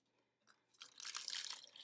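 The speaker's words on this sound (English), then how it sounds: "I'm going to add some water." Water poured into a plastic sensory bottle already holding small objects, a faint start followed by a sustained, fairly close splashing pour that swells and continues for over a second.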